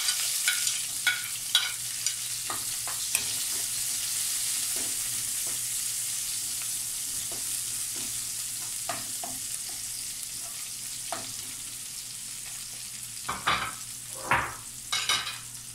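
Garlic and onion sauté in a pan with a steady low sizzle, broken by sharp scraping stirs and taps of a utensil that grow busier toward the end. No one speaks.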